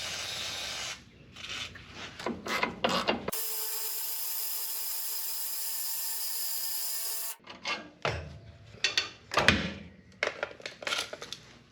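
Ratchet tightening nuts on a helper air bag bracket on a 3rd-gen Ram 1500: uneven bursts of close, gritty clicking and scraping, broken in the middle by a steady hum lasting a few seconds.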